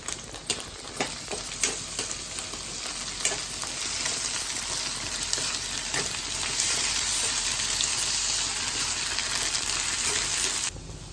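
Onions fry in oil with ginger garlic paste, giving a continuous close sizzle and crackle with frequent stirring scrapes and taps, ending abruptly.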